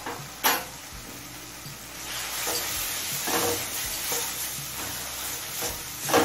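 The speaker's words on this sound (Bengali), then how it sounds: "এবার আদা রসুনের কাঁচা গন্ধ চলে যাওয়া পর্যন্ত কষিয়ে নেব" Ginger and garlic paste sautéing with spiced chicken liver and stomach in a pan, producing a steady moderate sizzle with spoon scrapes and a couple of sharp knocks against the pan.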